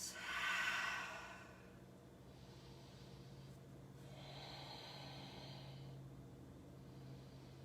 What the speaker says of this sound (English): Breathe big, deep Ujjayi breaths.